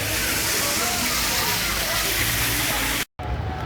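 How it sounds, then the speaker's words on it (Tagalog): A waterfall near the sea, a loud, steady, broadband rush of falling water close by that cuts out abruptly near the end, with a voice speaking over it. "Waterfall."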